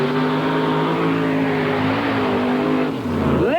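A Ford Thunderbird mud racing car at a 1991 NMRO event in McComb, Mississippi roars with a loud, steady engine drone, then the pitch dips and climbs sharply as it crosses the finish line.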